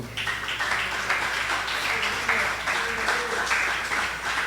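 A church congregation claps in praise during a sermon, producing a dense, steady wash of applause with brief background voices mixed in.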